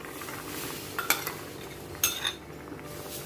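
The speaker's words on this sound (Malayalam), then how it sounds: "അപ്പോൾ അതൊക്കെ ഒന്ന് ഇളക്കി കൊടുക്കാം." Manthal sole fish curry with ground coconut being stirred in a pot, a soft simmering hiss broken by two distinct clinks of a spoon against the pot, close and without speech.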